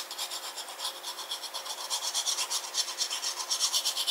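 Glue is spread along a half-inch strip of paper for a pop-up scrapbook album page, making rapid rhythmic rubbing and scraping strokes, close and alone.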